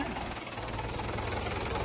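A tractor engine runs steadily nearby with a low, continuous knocking rumble, broadband and unbroken throughout.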